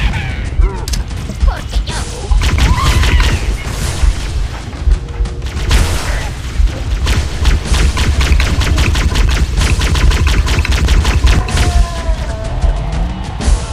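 Grenade blasts and rapid gunfire fill a firefight in Halo: Combat Evolved, loud and dense with repeated booms over continuous shooting.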